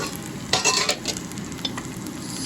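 Steady sizzle in a pan while cooking a cucumber tomato curry, a continuous close frying hiss with a few louder spoon stirs near the middle.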